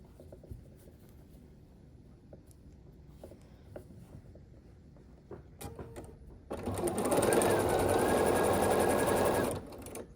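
Sewing machine stitches quilt block pieces in one continuous run of about three seconds, preceded by quiet handling of fabric.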